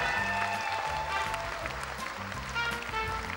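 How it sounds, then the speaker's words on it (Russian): An audience claps for graduates in a hall, a continuous patter of many hands under steady music with sustained tones. "Аплодисменты"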